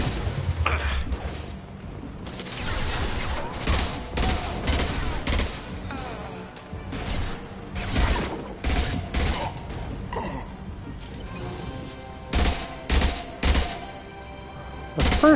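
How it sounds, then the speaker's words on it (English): Gunfire and concussive shots in the video game Mass Effect 2, repeated loud bursts and sharp impacts over a steady game backdrop, with brief clusters of shots near the end. "Concussive shot ready."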